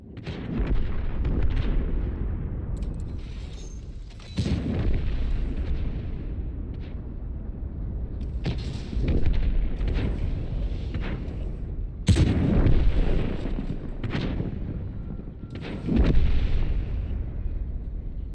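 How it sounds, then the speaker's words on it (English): Hedgehog bomb explosions rumble through a World of Tanks battle on the Mirny-13 map, several deep booming blasts arriving a few seconds apart over continuous low rumbling, loud and heavy, with no talk. "Hedgehog bomb detected. Evade."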